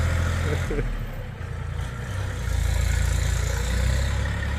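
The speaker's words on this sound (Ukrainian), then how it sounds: "То міцний трактор, дивіться." A Kentavr 244SX Chinese tractor being broken in runs steadily nearby, a continuous low engine drone that swells slightly partway through.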